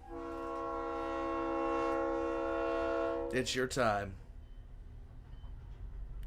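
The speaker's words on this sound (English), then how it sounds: "The train is here for you." A train horn blares in a long sustained tone, then breaks into a few shorter bursts before fading, with a voice speaking briefly over the rumble of the arriving train.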